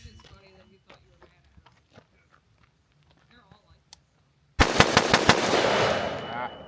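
An AR-15 11.5-inch build rifle fires a rapid string of about five or six loud, sharp shots close by, bursting out after a stretch of quiet, sporadic talk.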